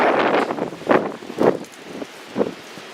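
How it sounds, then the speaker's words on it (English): Strong gusty wind ahead of a storm, buffeting the microphone in several rough bursts with rustling between, close and moderately loud, no voices. "Kind of windy out here."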